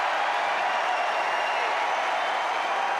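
Wimbledon tennis crowd applauding the players at night after a long match, a dense, steady wash of clapping from a large audience, even and sustained throughout.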